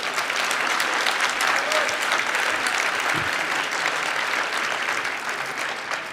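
Conference hall audience at a congress breaks into sustained applause, a dense, even wash of many hands clapping at close range, loud and unbroken from start to finish with no voices standing out.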